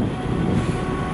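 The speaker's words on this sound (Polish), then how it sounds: "Jedzie jako pociąg." A train passes through Łowicz Główny station in a short, steady low rumble of rolling wheels, close and continuous with no voices.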